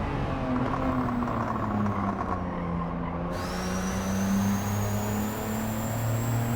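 Honda S660 race car engine in Gran Turismo 7 at Lago Maggiore, revving steadily at high RPM as it pulls through the gears out of a corner, with a rising whine near the end; continuous and loud with no talk.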